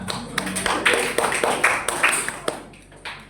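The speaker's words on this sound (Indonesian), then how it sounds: "Tepuk tangan semuanya." An audience of students claps after a class presentation, scattered uneven claps and taps rather than a full ovation, with some talk in the background.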